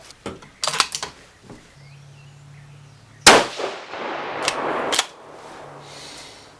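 Two 6mm Creedmoor rifle shots loaded with N555 powder and 108-grain Berger bullets fire a few seconds apart, each a sharp crack followed by a lingering outdoor echo, with faint clanks and ticks in the quiet between.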